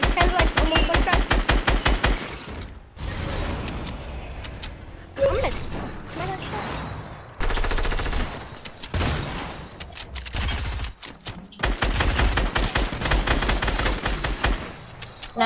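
Rapid bursts of automatic gunfire fill a multiplayer shooter match, dense volleys broken by short pauses, with voices talking over the shooting.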